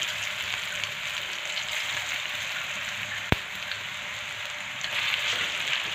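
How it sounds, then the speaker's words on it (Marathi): Taro leaf rolls (alu vadi) shallow-fry in hot oil with a dense, even sizzle that holds throughout, broken once by a single sharp click. "आता त्याच तेलामध्ये आपण राहिलेली दुसरी बॅच पण त्याच पद्धतीने फ्राय करून घेऊ"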